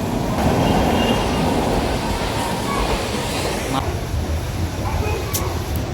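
A Mumbai local train rumbles past loudly and steadily, with broad rushing noise and a brief high screech near the end.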